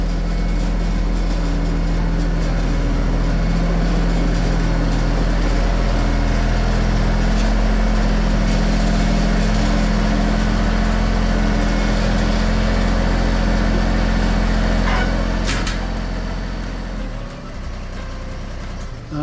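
A Massey Ferguson GC2300 compact tractor engine runs steadily at a constant low drone, close by, then settles to a quieter idle near the end.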